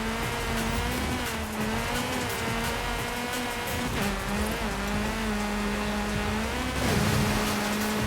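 A V10 muscle car engine in Forza Horizon 5 drones loudly and steadily, its pitch rising and dipping through gear changes as it revs, with a brief surge near the end.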